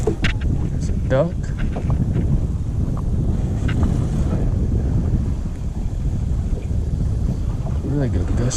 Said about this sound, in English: Really good gust of wind right there.